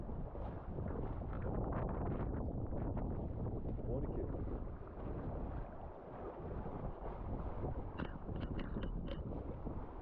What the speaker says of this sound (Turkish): Rüzgar nereden esiyor? Arkamızdan esiyor ya.